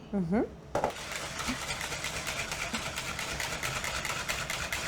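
A Thermomix whisking egg yolks and sugar whirs steadily at high speed, a continuous motor hum with a brief voice and clatter at the start.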